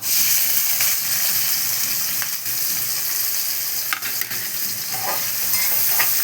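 Onions for chicken masala frying in a pan, a steady close sizzle and hiss with small pops and crackles throughout, no voices.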